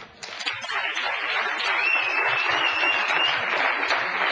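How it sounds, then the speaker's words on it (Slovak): Audience applause welcomes a guest, a dense, even burst of clapping that builds quickly and holds steady. "poprosím vás potlesk."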